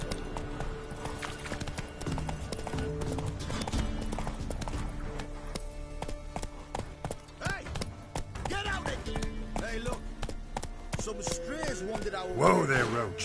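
Hooves of Roach, the horse in The Witcher 3: Wild Hunt, clip-clop steadily under a game music bed with scattered effects and brief speech, rhythm loosening mid-clip before a sharper burst near the end.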